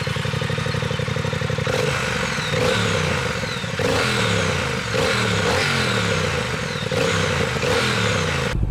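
A 2021 Triumph Speed Twin's 1200cc parallel-twin engine with two large exhausts is revved repeatedly from idle, each deep, throaty blip rising and falling in a regular rhythm, close and loud with no talking.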